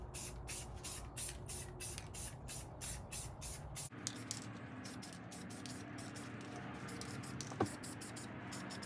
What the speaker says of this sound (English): Same Rust-Oleum brand. Hopefully nothing happens and it doesn't get all crackly. So basically spray it the same.